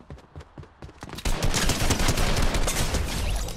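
Gunfire in the game Fortnite: a handful of separate sharp shots give way to a dense, loud burst of rapid automatic fire that continues to the end, with no talking.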